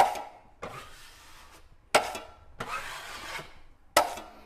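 Drywall joint compound wiped off a wall while repairing torn drywall paper: three or four separate scraping strokes, each opening with a sharp onset, up close and alone.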